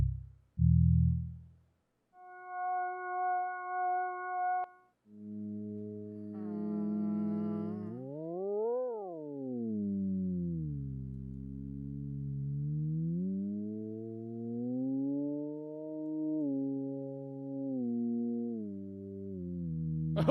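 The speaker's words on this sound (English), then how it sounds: "We'll play you 5 tones, and then you'll recreate them from memory." Electronic tones from a pitch memory game: a few short low blips, then a steady held tone, followed by a long sustained tone that slides up and down in pitch, swooping and settling. Loud and close, with no talking.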